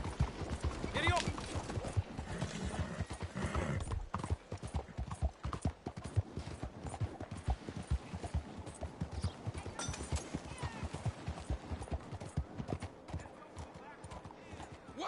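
A horse gallops in Red Dead Redemption 2 with fast, steady hoofbeats close by for the whole stretch, and a whinny comes in early. A person talks over the hooves now and then.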